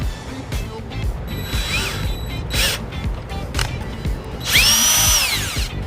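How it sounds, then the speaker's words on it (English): A power drill bores a hole through the centre of a rubber plug during trailer wiring work on a 2020 Honda HR-V, with short whining bursts that rise in pitch over a background of handling noise. "I've got my drill, and we're just going to drill a hole straight through the center of that plug."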